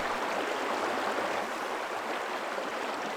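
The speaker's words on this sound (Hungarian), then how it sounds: "Kinyitom az ablakot, lehet hallani, hogy folyik." A river flows steadily beyond an open window, a soft continuous rushing wash heard from a short distance, fairly quiet and unbroken, with no voices.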